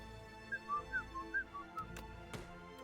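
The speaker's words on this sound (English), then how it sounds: "I'm also really good at whistling through my nose under the right circumstances." A person whistles through their nose: a series of short, faint, thin whistled notes rising and falling in a loose tune, followed by a few soft clicks.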